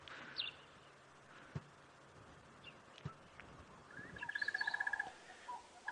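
A crested barbet calls at dawn on a sunrise safari drive: a rapid, even trill of repeated notes rising out of quiet bush ambience, with a few faint distant bird chirps and soft knocks around it.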